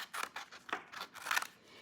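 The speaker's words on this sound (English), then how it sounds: "you can just cut that piece off" Scissors snipping through a paper sentence strip, several crisp, quiet blade closes in a loose rhythm, close by and alone.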